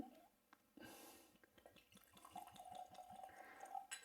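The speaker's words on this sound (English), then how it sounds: "Oh, that is a fair pour." Bourbon pours steadily from a clear bottle into a glass, a soft trickling fill that grows slightly louder toward the end, with faint rhythmic glugs underneath.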